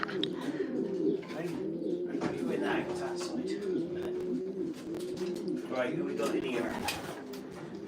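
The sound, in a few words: racing pigeons cooing in loft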